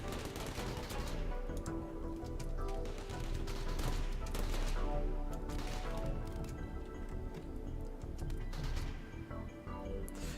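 Dense, continuous video game gunfire in Rimworld crackles and rattles in rapid bursts with booming impacts, like a heavy firefight, loud and sustained throughout.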